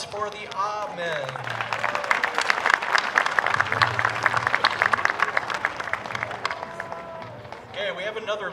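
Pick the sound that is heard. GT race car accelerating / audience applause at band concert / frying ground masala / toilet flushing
audience applause at band concert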